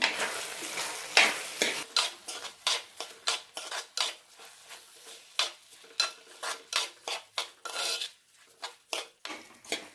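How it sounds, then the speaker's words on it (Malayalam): Drained rice for mint biryani is sautéed in a pan with roasted masala, and a spoon scrapes and stirs it in a quick steady rhythm of close scraping strokes over a faint sizzle. "അരി നന്നായി വഴറ്റാം"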